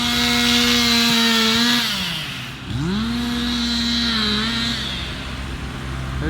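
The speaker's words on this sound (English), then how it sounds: "cutting up the firewood for them, which is the service we offer." A chainsaw cuts a dead olive tree into firewood, its engine droning steadily, then bogging and dipping in pitch partway through before climbing back to a sustained rev, loud and close with no talking.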